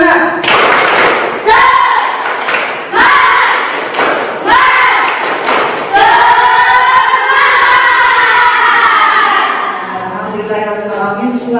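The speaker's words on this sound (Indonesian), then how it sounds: "mari kita tepuk semangat terlebih dahulu ya" A school class in an Islamic history lesson performs a rhythmic spirit clap (tepuk semangat), with loud bursts of group clapping broken by shouted chanting voices that carry into a long sustained cry.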